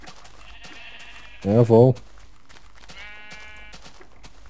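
Sheep in Minecraft bleat loudly in one wavering two-part cry, with people chatting briefly and quiet game sounds around it.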